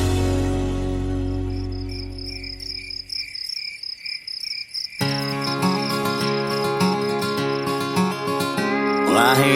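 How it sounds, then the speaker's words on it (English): Crickets chirp steadily in a continuous high trill that fills the clip, with a denser, louder chorus of insects taking over partway through, no voices present. "I hear crickets."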